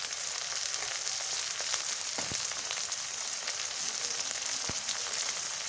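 Onion and garlic paste fries in hot oil, a dense, steady crackling sizzle heard up close with a few sharp pops, no voices over it.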